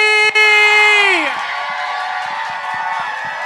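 Audience at a RuPaul's Drag Race Season 15 viewing-party drag show lets out one loud, sustained whoop lasting about a second, then settles into steady crowd cheering with scattered claps.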